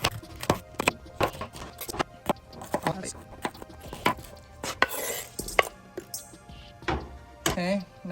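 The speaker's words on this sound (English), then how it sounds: "I'm gonna slice up these jalapenos." A knife slices through jalapenos on a cutting board in a carne asada taco kitchen, making a steady series of sharp, close chopping thunks with short pauses between, while a voice talks over the cutting.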